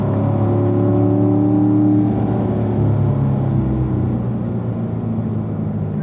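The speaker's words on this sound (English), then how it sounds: "Squeezing that throttle to accelerate down that straight" A car accelerates hard down a track straight, its loud engine note rising steadily in pitch with a deep rumble underneath, constant and close throughout with no voices.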